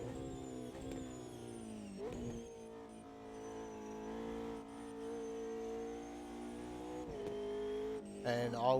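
McLaren 720 race car engine in a racing video game at Spa, a steady sustained drone with shifting pitch through the run, brief gear-change dips near two and seven seconds and a rising rev at the very end.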